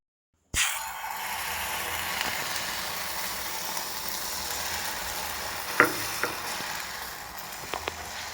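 An egg omelette fries in oil in a pan on a stove, giving a steady broadband sizzle that starts abruptly and holds evenly, with a few light clicks and scrapes near the end.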